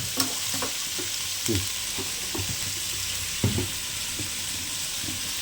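Onions sauté in hot oil with rock salt for an egg curry, giving a steady close sizzle with occasional scraping stir clicks from a utensil in the pan, no voices.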